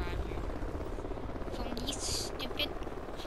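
Aircraft engine drone in the Call of Duty Ghosts video game, a continuous whirring, helicopter-like hum running throughout at moderate level, with brief bursts of game effects partway through and a voice speaking over it.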